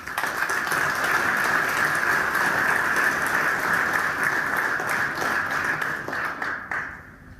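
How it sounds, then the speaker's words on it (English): Sustained applause from an audience at a school board of education meeting, honoring a student geography bee qualifier; steady dense clapping fills the room, then tapers off near the end. "So, round of applause for Nick."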